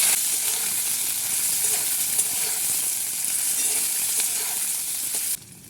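Chopped chilli, garlic, ginger, capsicum and onion fry in hot oil with a loud, steady hiss and sizzle that drops away abruptly at the end.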